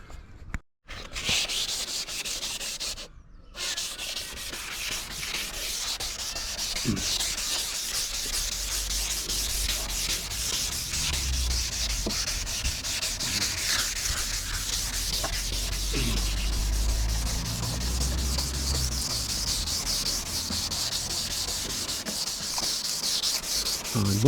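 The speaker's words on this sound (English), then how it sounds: "once I get that sandpaper, I'll rub this down" A car headlight lens being sanded by hand with sandpaper: a steady, close, continuous scratchy rubbing that runs nearly unbroken, with no talking.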